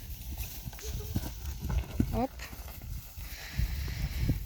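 Hoofbeats thud irregularly on soft field ground as horses move nearby during riding training, with a voice talking over them and a brief whinny-like sound.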